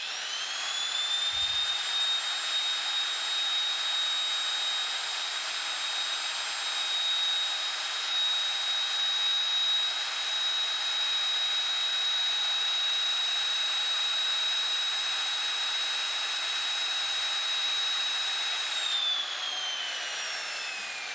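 Steady, loud mechanical whine of a power pipe threader running in reverse to back its die off an oiled threaded pipe held in a pipe vise, a constant drone that holds for about twenty seconds, then winds down near the end.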